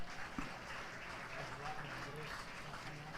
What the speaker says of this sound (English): Let's give a round of applause for our softball and baseball candidates